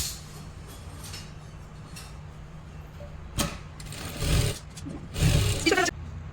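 A sewing machine stitches strips of blouse piping together in a few short bursts of running, over a low steady hum, fairly quiet and close.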